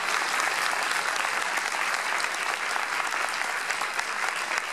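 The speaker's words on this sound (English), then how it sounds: "they really deserve a round of applause" A crowd at a Morristown, New Jersey municipal ceremony applauds steadily and loudly throughout, with dense overlapping claps and no pauses.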